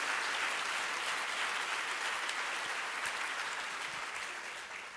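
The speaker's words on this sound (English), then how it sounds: "Another round of applause for Helen Thomas." Audience applause following a talk with veteran White House correspondent Helen Thomas, a dense, steady clapping from a crowd filling the whole stretch and easing slightly toward the end.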